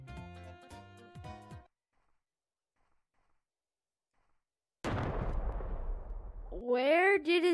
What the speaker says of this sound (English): I have an airstrike.